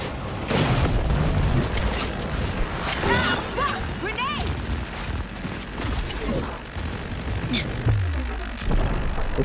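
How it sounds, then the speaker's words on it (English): Booming blasts and crashes during a firefight in the video game Cyberpunk 2077, a grenade explosion among dense, loud combat noise with voices speaking over it. "Grenade!"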